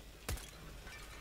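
An incendiary grenade thrown in CS:GO on the de_cbble map gives a single brief, sharp shattering burst of breaking glass, followed by a low crackle that fades into quieter background.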